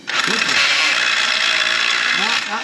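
A new unibit step drill bit grinds steadily through metal, a continuous loud whirring bore lasting nearly the whole moment, with faint voices murmuring beneath.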